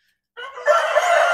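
A rooster crows loud and close in a single sustained call among dual-purpose laying and meat chickens on a poultry farm, starting abruptly after a moment of silence.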